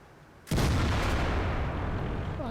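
A single loud tank gun blast in World of Tanks, firing from an Object 416 tank destroyer, with a sudden boom followed by a long rumbling, decaying roar.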